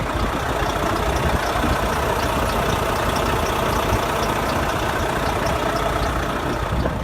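A 2013 Volvo 670 semi truck's diesel engine idles steadily, a loud continuous low rumble with no break and no talking.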